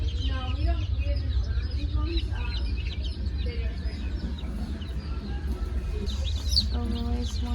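Speckled Sussex chicks in a farm store chirp and cluck in repeated high calls over a low steady background hum, with people talking nearby.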